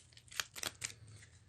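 A deck of playing cards is shuffled for a two-player card game, a quick, faint burst of three or four soft riffling flicks close to the microphone.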